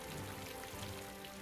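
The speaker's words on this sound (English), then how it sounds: "it swelled the atmosphere with moisture, creating torrential rainfall." Torrential acidic rain pours down in a steady, dense hiss of countless drops striking the ground, continuous and fairly faint with no voices.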